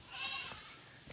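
A mountain goat bleating once, a short, close, moderately loud nasal cry lasting about a second.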